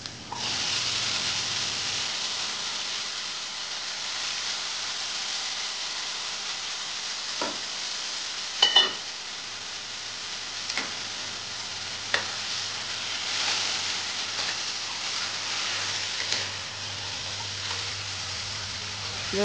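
Finely chopped bottle gourd stir-frying in a hot oil tempering with crushed garlic, a continuous loud sizzle close by, punctuated by occasional sharp clinks and scrapes of the stirring spoon against the pan.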